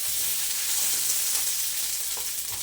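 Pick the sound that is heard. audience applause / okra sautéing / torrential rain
okra sautéing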